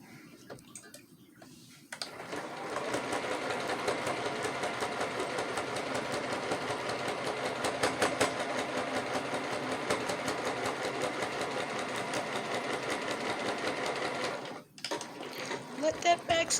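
Sewing machine running steadily as it stitches fabric point on point, a loud continuous mechanical whir with rapid ticking that starts after a brief pause and stops near the end, followed by a few handling sounds.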